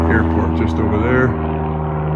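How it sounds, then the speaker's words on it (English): A small Cessna propeller airplane drones overhead on a cold, snowy day near an airport, its steady engine hum heard close and loud with a person talking over it. "Little Cessna."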